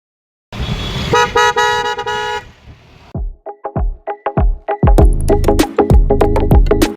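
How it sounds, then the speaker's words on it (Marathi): A car horn blares in long sustained blasts, then breaks into a rapid series of short, loud honks, close by. "सोनू भैयाच्या गाडीचा तुम्ही हॉर्न बघा, पुढे व्हिडिओ टाकतोय मी. बघा कसं काय वाजतोय."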